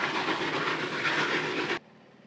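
Museum train in the Kanal ob Soči area, a broad steady rushing and hissing rolling-stock noise, loud and continuous, cutting off abruptly near the end with no clear whistle blast.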